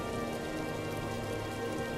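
Continuous rain falls in a steady, even hiss of drops on surfaces, unbroken and moderately soft across the short stretch with no voices.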